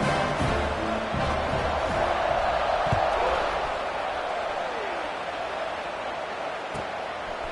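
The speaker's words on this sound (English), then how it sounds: "this crowd is buzzing after that last score" Steady roar of a packed stadium crowd buzzing after a score in the College Football 25 video game, a dense continuous wash of cheering held at an even level throughout.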